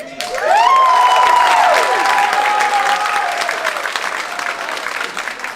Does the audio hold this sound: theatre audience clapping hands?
yes